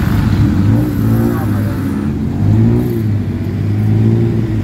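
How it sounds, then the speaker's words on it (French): Busy Bangkok street traffic with cars and scooters, a continuous engine roar with rising revs as vehicles pass close by, while people talk over the din. "Ici, c'est le bordel, la circulation"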